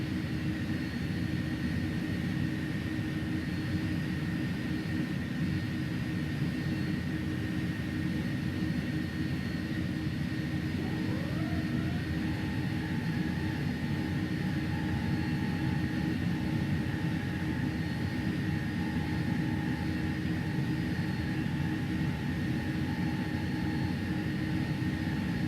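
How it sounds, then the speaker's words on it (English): Trailing-edge flaps of an Airbus A310 extending in a flight simulator: a rising whine that climbs and then settles into a steady tone over a constant cockpit engine drone, faint and continuous, with no voices. "But then you're going to hear these trailing edge flaps really start to move."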